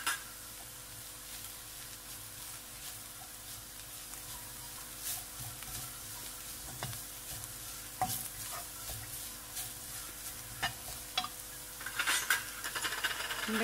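Chili and coriander powder fry in a pan for a green moong dal masala curry, a low steady sizzle under scattered clinks and scrapes of a spoon stirring against the pan.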